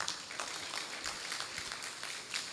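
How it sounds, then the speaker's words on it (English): Faint, steady applause from a symposium audience honouring the panelists, a dense even patter of many hands clapping at a distance for a couple of seconds. "I think that the panelists really deserve another round of applause."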